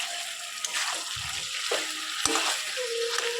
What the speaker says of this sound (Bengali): আরও একটু ভালো করে দশ মিনিট মতন কষিয়ে নেব মাংসটা যাতে সফট হয়